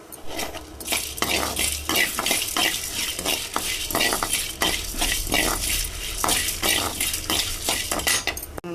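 Chicken fry masala ingredients being sautéed over a low flame in a pan: a busy, close clatter of a metal spoon scraping and clinking against the pan over a continuous soft sizzle, with no talking.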